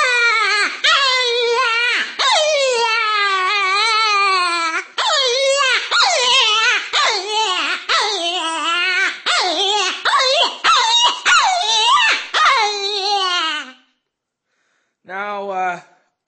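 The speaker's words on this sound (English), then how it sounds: "I'll go lower first so you can hear the lower pitch pretty much sounds like this" Buck Gardner raspy rabbit predator call with a closed reed, played low on the tone board: a run of loud, raspy, wavering distress wails in quick succession, then a pause and one short final squall.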